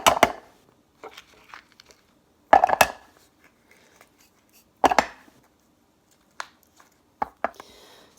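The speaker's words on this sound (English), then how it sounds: "And then I'll take a spoon and I'll just scoop it out." Spoon scooping soft avocado flesh out of its skin, several short scraping, squelching strokes spaced a couple of seconds apart, close and fairly crisp, followed by a few lighter taps and scrapes.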